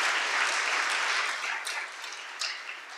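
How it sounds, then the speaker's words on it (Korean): A church congregation gives loud, sustained applause at an anniversary and ordination service, dense clapping filling the room and easing slightly toward the end. "박수 좀 크게 보내주십시오"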